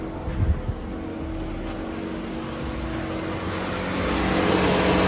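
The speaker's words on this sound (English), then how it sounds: "the fans are going like mad, as if the car is like overheating or something" Cooling fans of a Vauxhall Corsa running hard, as if overheating after a thermostat change, give a steady broadband whir with a low engine hum beneath, growing slightly louder toward the end.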